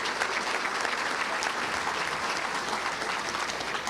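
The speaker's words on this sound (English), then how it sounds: "let's give them a round of applause for helping out today with the meeting" Steady, full applause from a seated audience at a Little Rock Touchdown Club meeting, even and continuous throughout with no voices standing out.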